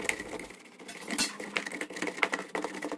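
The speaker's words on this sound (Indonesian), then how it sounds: "Kemudian kacang hijaunya kita haluskan dengan menggunakan cangkir ya teman-teman." Steamed mung beans mashed with a cup for gandasturi cakes, heard as quick, irregular tapping and scraping clicks of the cup against the beans and bowl, close and busy throughout.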